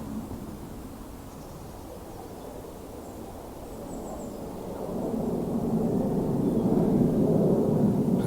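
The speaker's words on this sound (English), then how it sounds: "Aeroplane now." A low, steady rumble of an airplane passing overhead, swelling gradually louder toward the end, with faint outdoor ambience and no voices.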